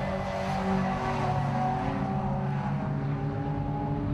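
MG race cars with 3.9 litre V8 engines lapping Donington Park, a continuous droning engine roar from several cars at a distance, steady throughout with no one speaking.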